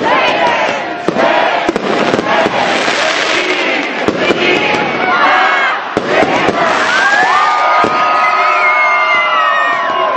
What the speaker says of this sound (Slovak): Nie len ohňostrojom, petardami a odpalovaním rôznych svetlíc sa niesla zábava v posledný deň roku 2017